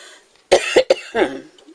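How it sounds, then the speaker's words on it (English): A few sharp, close coughs in a quick burst, three bunched together then one more after a short pause, with quiet before. "I'm going to cough now"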